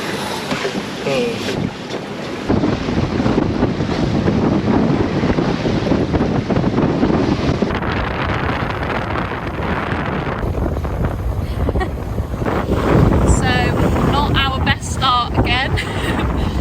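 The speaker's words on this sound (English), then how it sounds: "We have got wind this time" Strong wind roars and buffets the microphone aboard a sailboat at the start of a sailing race, with water rushing past the hull, loud and constant throughout, while people talk under the noise.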